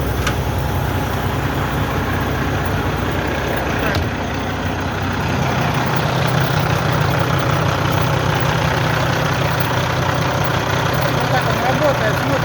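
A Kenworth T2000 truck's 600-horsepower diesel idles after being started following repair, a steady low rumble running close and continuous throughout, with a faint click partway through and someone speaking over it.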